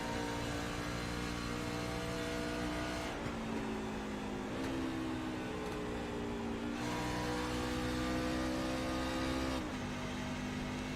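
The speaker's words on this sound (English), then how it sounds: "we're hearing him downshift" A race truck engine in a sim racing video game drones loud and continuous, with several distinct downshifts that drop and jump its pitch, no talk over it.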